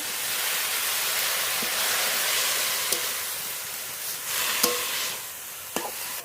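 Red amaranth greens hiss and sizzle steadily in a hot pan after a splash of water, a broad even frying roar with a few faint clinks of a spatula against the pan.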